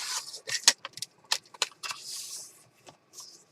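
Paper being cut for a Christmas journal, a series of short, crisp snips and rustles close by, irregular in rhythm, with a longer sliding cut partway through.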